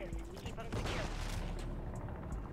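UMP submachine gun fire in Modern Warfare 3 rattles in rapid bursts amid a busy firefight, fairly quiet overall, with a voice talking over part of the shooting.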